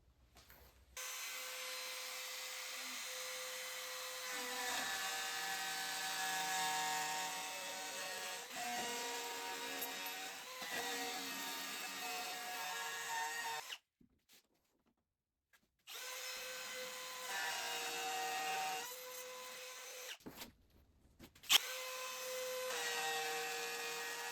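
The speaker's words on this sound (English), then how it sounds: "I'm transferring the scribe down to the wood. Using this router bit." A router bit cutting into a scribed wood face frame gives a steady high whine with cutting noise that runs for long stretches, stops briefly, then resumes nearby.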